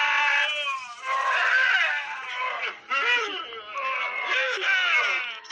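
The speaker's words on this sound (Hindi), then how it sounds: "ये तो उन्हीं दोनों मुजरिमों की चीखें थी" Two criminals' screams come as prolonged, high-pitched wailing cries, loud and close, breaking into several strained bursts with short pauses between them.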